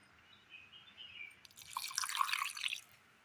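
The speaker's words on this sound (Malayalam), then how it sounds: "ഇനി ഇതിനകത്തേക്ക് ഒരല്പം വെള്ളം കൂടി ഒഴിച്ചു കൊടുക്കാം." A little water is poured into a mixer jar, giving a short, soft trickle and splash that builds for about two seconds after a quiet start.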